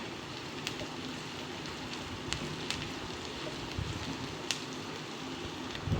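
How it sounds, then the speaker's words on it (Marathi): Onions fry in hot oil in a pan while being cooked for a vegetable chutney, giving a steady, close sizzling crackle throughout with occasional sharper pops. "आता याला छान आपण मस्त भाजून परतून घेणार आहे तेलामध्ये"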